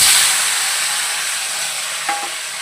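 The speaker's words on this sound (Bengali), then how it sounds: "এবার সিমগুলোকে দিয়ে দেবো, দিয়ে একটু নেড়ে চেড়ে তারপরে মশলাটা দেবো।" Flat beans stirring in hot oil tempered with black cumin, a steady loud sizzle that slowly eases, with a brief clink of a utensil near the end.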